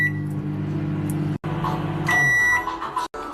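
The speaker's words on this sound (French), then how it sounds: "Maintenant, tu fais chauffer 1 minute au micro-ondes." A microwave oven heats a mug cake, giving a steady low mechanical hum with harmonic drone, briefly cut twice, and a shift in tone near the end as high tonal whines appear.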